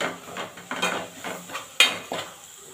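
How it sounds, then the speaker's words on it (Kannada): Spices such as garam masala and cumin powder being fried and stirred in a pan over a low flame for prawn sambar, with soft scraping strokes and occasional sharper clinks of a spoon against the pan. "ಕಡಿಮೆ ಉರಿ ಇಟ್ಕೊಂಡು ಇದನ್ನು ಚೆನ್ನಾಗಿ ಫ್ರೈ ಮಾಡ್ಕೊಳ್ಳಿ."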